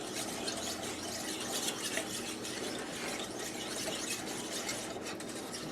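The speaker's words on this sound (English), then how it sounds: "So we're going to be whisking this constantly until it does come to a boil." Cola frosting is whisked steadily in a pot on the stove, a continuous soft scraping and swishing that stays even and close, with no talking over it.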